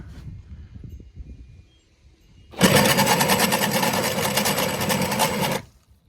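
A cheap corn grinder grinds chicken feed, starting after a quiet moment with a sudden loud, steady mechanical whir and rasp that holds for about three seconds and then cuts off.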